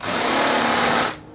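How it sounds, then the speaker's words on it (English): An electric drill with a 4 mm bit whines at a steady high pitch for about a second while drilling holes to install a flood barrier, close and loud, then cuts off abruptly. "It's a 4 mil drill bit."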